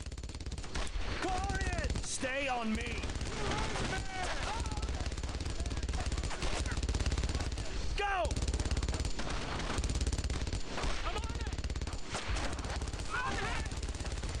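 A machine gun rattles nonstop through a Brothers in Arms firefight, a loud dense stream of shots across the whole stretch, with shouted voices and whistling rounds cutting in over the din.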